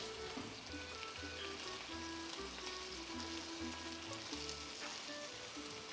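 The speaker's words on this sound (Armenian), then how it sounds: "տապակելու ենք սոխը և միսը, մինչ սոխի վարդագույն, այսպես ոսկեգույն երանգ" Onion and boiled lamb meat frying in a pan, a faint, even sizzle crackling continuously over quiet tonal sounds in the background.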